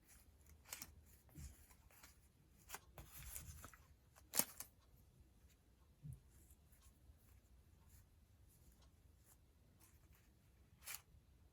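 Scissors snip a paper embellishment in half during scrapbook journal decorating, a few quiet crisp cuts and rustles with one sharper snip standing out, close and faint with no talking.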